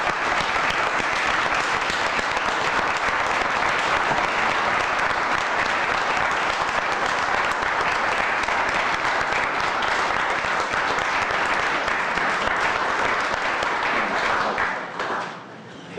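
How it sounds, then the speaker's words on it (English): A room at a Homer Glen board meeting breaks into a sustained round of applause for the crew, dense even clapping from many hands lasting about fifteen seconds before tapering off abruptly. "I would like to give these guys a round of applause"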